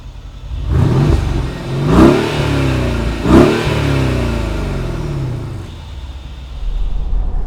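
A 2013 Mercedes-Benz SL 550 accelerates hard on a drive with the top down, its engine rising and surging in loud repeated revving pulls, with no other sound over it.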